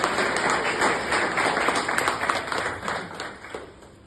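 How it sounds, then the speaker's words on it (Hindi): An audience at a health awareness celebration show in a hall breaks into applause: a fairly close burst of many hands clapping, steady at first and then thinning toward the end, with no voices over it. "जोरदार तालियां।"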